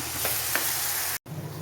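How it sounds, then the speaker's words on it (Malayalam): Chopped banana flower fries in oil as it is stirred, a bright steady sizzle with a couple of soft scrapes, briefly cut off before resuming close by. "ഇതൊന്ന് ഇളക്കി കൊടുക്കാം"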